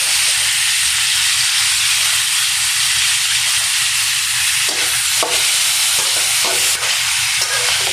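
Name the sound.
potatoes added to frying onions, sizzling and stirring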